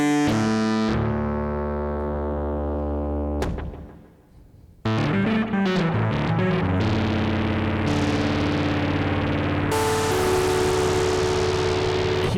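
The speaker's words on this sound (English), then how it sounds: "This is cutting off all the noise below that threshold." Electric piano chords ring out with heavy reverb, and a noise gate chops each decaying tail off abruptly into near silence before the next bright, distorted chord enters.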